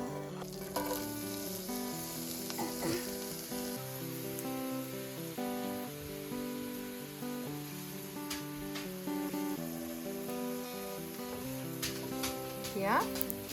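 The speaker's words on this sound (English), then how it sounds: "Let's begin to fry our onions." Onions fry in a pan with a soft, steady sizzle and occasional stirring scrapes, quiet and continuous, while voices are heard faintly in the background.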